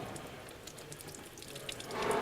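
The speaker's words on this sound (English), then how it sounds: "we just take and let the antifreeze coolant come out." Antifreeze coolant draining from a 2011 Ford Edge into a pan, a faint steady splashing trickle of liquid that grows slightly louder at the end.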